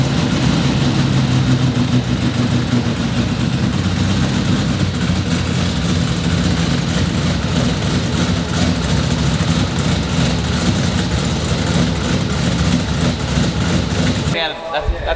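A supercharged LS-swapped Nissan Silvia S13 engine runs loud and steady throughout, rumbling between idle and revs, then cuts off abruptly near the end.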